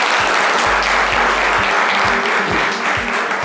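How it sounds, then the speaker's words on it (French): Dense applause from an audience fills the space, steady and loud throughout, with a faint rhythmic thumping underneath. "On peut applaudir pour ça."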